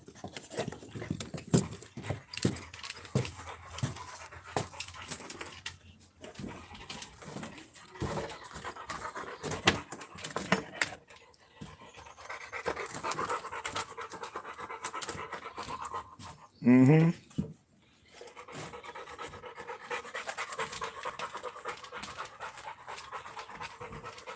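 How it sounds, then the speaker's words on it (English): A tiny dog panting on a porch, rapid rhythmic breaths repeating close by throughout, with scattered background noise and a brief louder burst partway through. "I just noticed the dog sitting there, a little itty bitty dog"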